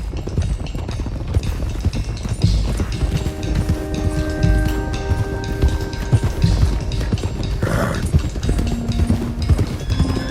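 Steady clip-clop of horse hooves at a trotting rhythm in a video game, with a brief whinny midway and a low musical drone underneath.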